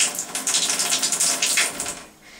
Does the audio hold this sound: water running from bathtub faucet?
yes